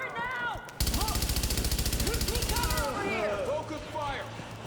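Rapid automatic gunfire in a video game hammers out as a dense, even burst of shots for about two seconds, with scattered sharp chirping sounds around it and game audio continuing afterward.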